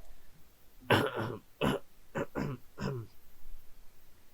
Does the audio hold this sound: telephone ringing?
no